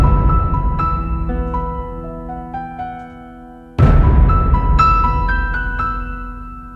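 Synthesized tonal hits from Easter Island Hits sample patches, with bright bell-like overtones and a heavy low end, ring out, then a louder hit cuts in midway and sustains.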